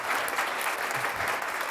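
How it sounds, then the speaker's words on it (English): A crowd applauds at the finals of a food hackathon event, a brief burst of dense, even clapping from many hands, fairly loud and continuous with no voices over it. "Make a big applause again"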